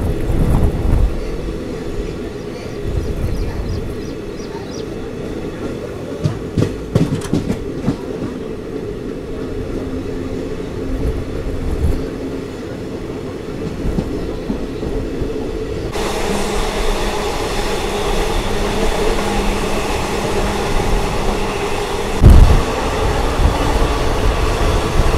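The Hubballi–Solapur passenger train passes alongside, heard from aboard the Vijayapura–Yesvantpur Express: a sustained rumble of wheels and carriages that grows louder and brighter partway through, with a sharp clack near the end.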